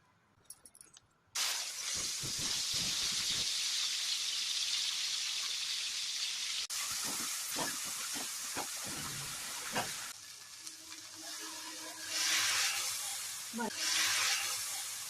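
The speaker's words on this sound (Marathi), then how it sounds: "तेल टाकून घेतलंय आपण. आता मसाला परतून घेऊ." A loud, steady sizzle of black spice paste frying in oil for a soybean curry starts abruptly after a brief quiet moment, with occasional utensil knocks and spits; close up throughout.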